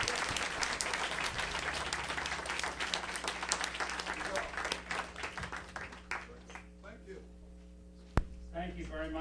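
An audience at a book launch applauds loudly and densely, then the clapping thins out and gives way to a steady hum, a single sharp knock and a voice starting to speak.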